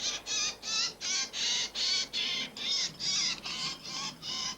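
A small ringed bird held in the hand after weighing gives a run of about a dozen evenly spaced, high, loud call notes, close and clear, each lasting roughly a third of a second with no talk.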